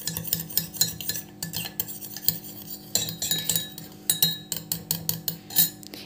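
A spoon repeatedly scrapes and clinks against a small bowl while raw milk is mixed into a face pack paste, producing a brisk, irregular rhythm up close with no speech.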